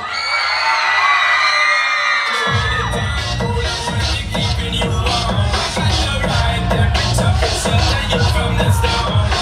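A party crowd at a season-opening night at a Serbian garden club screams and cheers loudly on a count of three, a sustained roar of whoops and yells over pounding dance music that kicks in after a brief pause.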